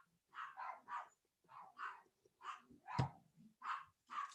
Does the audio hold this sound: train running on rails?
no